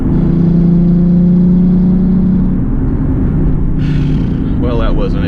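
A Nissan 370Z driving slowly around the block, heard from inside the cabin as a loud, steady low engine drone and road rumble, with a brief whirring change near the end.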